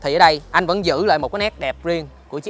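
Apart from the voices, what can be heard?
None of the usual background noises is heard.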